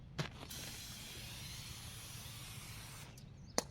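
An aerosol spray hisses steadily and quietly onto a 31-inch Jeep tire during mounting. Small clicks mark the start and end of the spray.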